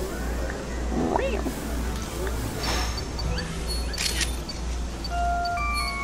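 Cat meowing in the Pokemon Snap video game, a short rising meow among game music and sound effects, with a camera-shutter-like click, moderately loud in the mix.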